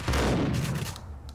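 Enemy gunfire in the Max Payne game, a rapid burst of loud shots packed close together that fades into a brief tail.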